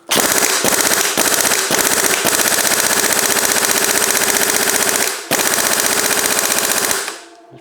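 Impact gun hammering on an FSA Mega Exo bicycle bottom bracket, a loud, close, continuous rattling burst with several short stutters and a brief pause before a final run that stops abruptly, with no talk.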